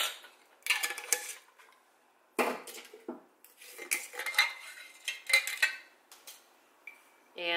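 A half-teaspoon measuring spoon scoops onion powder, with repeated light metallic clinks and scrapes against jar and dish coming in short irregular bursts, close and fairly quiet, separated by brief pauses.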